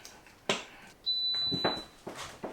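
A single steady electronic beep from an HTV Ront 15 by 15 auto heat press as it is plugged in, clear and close, lasting under a second amid quiet handling noise.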